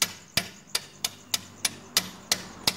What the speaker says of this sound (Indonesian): kita tarik keluar silinder headnya tidak kuat, kita palu aja keluar ya.